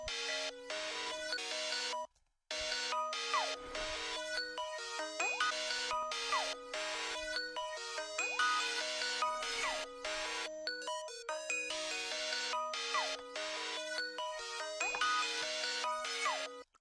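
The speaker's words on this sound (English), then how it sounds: "And I'll add chorus in this one. Leads usually sound good with chorus." Bright synth lead playing a repeating melodic phrase with a chorus effect, built in FL Studio for a mixed beat; loud and continuous with a brief dropout near the start, no talking.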